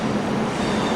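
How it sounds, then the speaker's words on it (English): A train rumbles continuously at Milano Centrale railway station, a loud, steady rolling roar with broadband rail noise and no talking. "So from Milano Centrale, long distance trains get them towards Verona, Venice, Bolzano, Turin, Genoa,"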